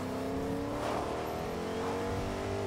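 Car engine revving in the Fortnite video game, loud and close, with the pitch sweeping up and down across a short burst and no talk over it.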